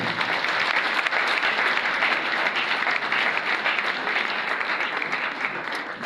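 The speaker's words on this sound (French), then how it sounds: "Acclamez pour le gouverneur." A hall audience applauds a governor at a political group's official launch event, with dense, sustained clapping that holds steady and loud for the whole stretch, with no speech over it.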